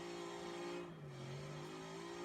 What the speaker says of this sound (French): c'est parfait, une moto 3 places avec un sidecar juste à côté.